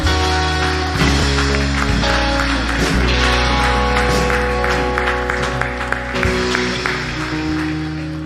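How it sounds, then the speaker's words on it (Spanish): A church congregation applauds during an afternoon service, sustained clapping from many hands over steady sustained musical tones, loud and continuous throughout. "¿Cuánto da un aplauso al Señor esta tarde?"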